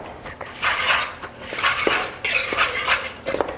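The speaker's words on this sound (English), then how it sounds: "just mix this in using a whisk" Whisk clinking and scraping against a bowl while mixing brown sugar into batter, in short repeated bursts of metallic rattling, close and moderately loud.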